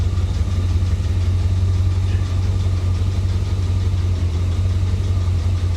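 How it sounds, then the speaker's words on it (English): A 1985 Chevy Corvette idling with a dead miss on one cylinder, a steady low rumbling engine with an uneven beat and a tapping, rattling exhaust, continuous and close with no talk. "Now that tapping, rattling noise that you're hearing, that is definitely coming from the exhaust"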